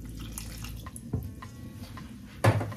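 Water poured from a container over sliced onions in a kitchen, a soft running splash with a few clinks and a louder pour near the end, close and alone.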